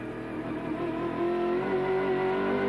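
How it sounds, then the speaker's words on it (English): A race car engine at the Bathurst 1000 in 1993 drones steadily, its pitch rising gradually as it pulls through the gears, heard as a continuous onboard roar. "Through the chase, 2nd gear, up to 3rd, into 4th, down to 150 metres on the brakes, straight back to 2nd"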